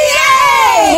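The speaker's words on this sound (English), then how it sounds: "On the count of three, scream 28." A group of children shout a number together at full volume on a count of three, one loud sustained burst of massed young voices with a rising then falling pitch.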